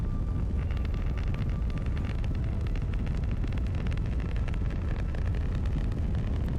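Rocket engine exhaust in the video game Kerbal Space Program 2 roars as a constant, dense, unbroken rumble, steady and loud throughout with no pauses or voices.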